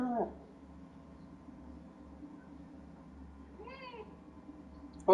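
A cat meows in the Cyberpunk 2077 Phantom Liberty video game, two fairly quiet meows, one at the start and one near the end, over a low steady background hum.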